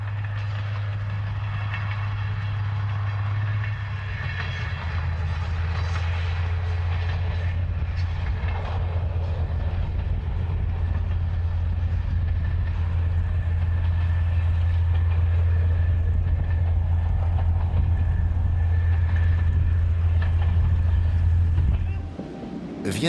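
Panoramic railcar X 4208 runs on track with a steady, loud low engine drone and rolling rumble, plus wind noise across the microphone. A voice speaks over it, and the drone falls away near the end.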